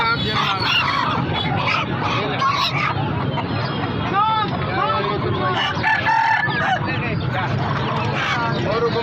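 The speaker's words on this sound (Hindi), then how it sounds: "ये मुर्गे चेक करें।" Aseel roosters crow repeatedly amid a noisy chicken market, with clucking fowl and people talking throughout the background.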